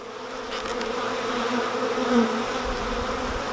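A steady, droning hum of many honeybees buzzing around close by during a nuc transfer into a beehive in the UK, continuous throughout with no talking.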